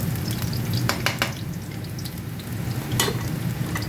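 Sardines with plenty of garlic sizzling in hot oil in a pan, a steady close crackling fry with a few sharp utensil clinks and stirring scrapes on top.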